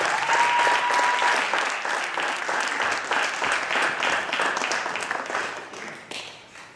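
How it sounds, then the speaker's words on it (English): Audience at a teen arts showcase in East Cleveland claps and cheers to welcome a poet onto the stage, a dense, loud wash of applause with whoops that holds steady and then slowly thins toward the end. "Start clapping, making noise. Show you love."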